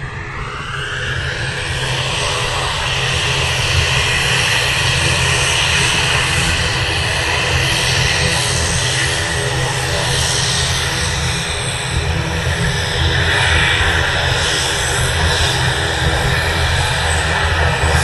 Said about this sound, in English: These prop aeroplanes are definitely quite loud.